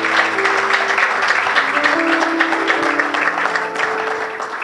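A room full of people applauds at an evening presentation of a Christian book, dense and steady clapping that holds at an even level throughout, with a low murmur of voices underneath.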